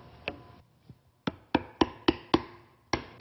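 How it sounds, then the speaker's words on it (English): A chisel paring wood to the line on a dovetail for a table drawer gives a series of sharp, close taps and knocks, a few spaced at first and then a steady run of evenly spaced strikes. "and then pair to your line using a chisel."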